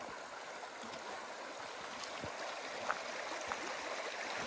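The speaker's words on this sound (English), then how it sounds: "So this is Bonanza Creek" Bonanza Creek near Dawson City, Yukon, a dredged gold-rush stream, flows with a steady, soft broadband rush and faint gurgles, heard alone at a moderate distance.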